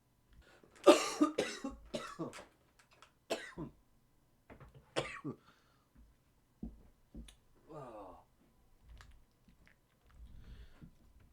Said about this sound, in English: Got a bit of a horrible cough still